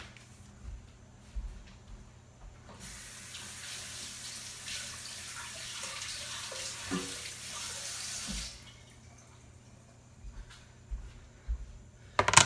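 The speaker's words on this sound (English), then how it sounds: "I'm going to give this a quick rinse in the sink, just get any dirt off" Tap water runs into a kitchen sink as celeriac is rinsed of dirt, a steady broad splashing stream for several seconds that then shuts off, with a few soft knocks and clatters around it.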